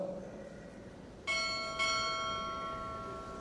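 Ship's bell struck twice in a quick pair at a Navy chief petty officer pinning ceremony, each clear ringing strike followed by a long sustained decay in an indoor hall with light background murmur.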